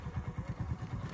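A motorcycle in an Indian village in Bihar, carrying goats, runs with a steady, low, rhythmic engine thump and some light clatter. It is heard close and alone.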